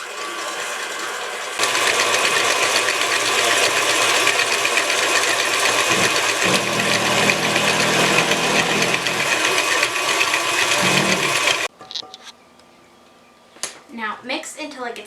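An electric mixer beats butter and sugar for banana bread batter, a loud continuous whir close up that runs for about ten seconds before cutting off, followed by quieter clatter.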